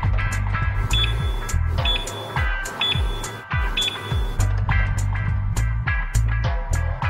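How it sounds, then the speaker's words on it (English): A rapid series of short electronic beeps from an RIO 600 laser epilator repeats over a steady low hum, close and fairly loud, with no talking. "You will hear a series of beeps to indicate the laser is operating."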